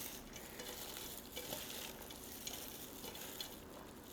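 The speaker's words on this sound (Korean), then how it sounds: "이제 이거 볶고, 볶으시기만 하면 됩니다." Japchae stir-frying in a pan with sesame oil gives a steady, close sizzle and scraping stir that runs without a break, with no voices.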